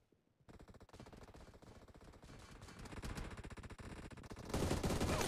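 Rapid automatic gunfire from the mobile battle royale game BGMI, dense bursts of shots that grow louder toward the end, with no talking.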